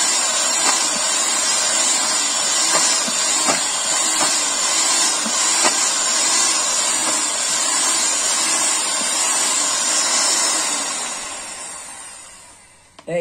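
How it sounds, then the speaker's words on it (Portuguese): An electric hand mixer whirs steadily and loudly as it beats homemade soap powder made from cooking oil, with a faint rhythmic scraping in the bowl before the motor winds down at the end. "Eu estou fazendo com a batedeira dessa vez"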